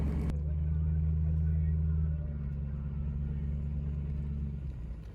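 A car towing a recovered sailboat on its trailer rumbles along at low speed, a steady close engine drone that shifts in pitch once and fades slightly near the end.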